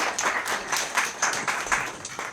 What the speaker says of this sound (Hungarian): Úgyhogy nagy tapsot fogadjuk előadónkat.